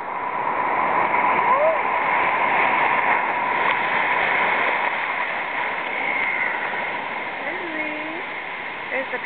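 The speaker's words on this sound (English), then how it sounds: "We're gonna go under this wave, okay?" Ocean surf at a beach during a morning swim, a continuous rushing and splashing wash of water heard close up as a wave passes over, steady with faint tonal sounds within it.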